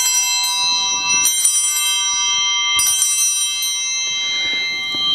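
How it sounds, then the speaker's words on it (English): Sanctus bells ring during the Eucharist in a church, two bright shimmering clusters of small bells shaken in quick bursts, each leaving a long ringing decay. "Those bells are called the Sanctus bells."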